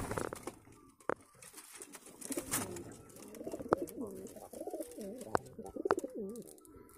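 Pigeons coo repeatedly in a loft, a soft rolling warble close by. Bird calls, rustling and occasional sharp taps sound around them.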